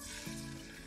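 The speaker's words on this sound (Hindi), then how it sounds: "अब हम इसमें चिकन के पीसेस डाल देंगे" Chicken pieces dropped into well-heated oil in a karahi set up a steady, close sizzle of frying, with a brief surge early on and no talking.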